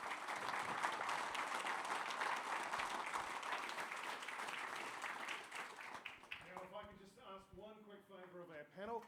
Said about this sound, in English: let's give a round of applause for our panellists